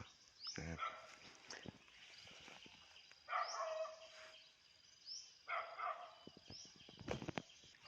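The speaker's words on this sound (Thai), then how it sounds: "เราไปดูนะฮะ ว่าน้องเห่าอะไรนะครับ ในบ้านนะครับ" A dog barks inside a house in several separate bursts, somewhat distant and muffled, with quiet stretches and faint chirps between the barks.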